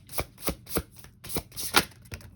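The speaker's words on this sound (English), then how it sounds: "bear with me in shuffling this deck, because I'm being very gentle with it" Tarot cards are shuffled gently by hand, giving a series of soft, quick riffling and tapping bursts, about eight in an uneven rhythm, close and quiet with no talking.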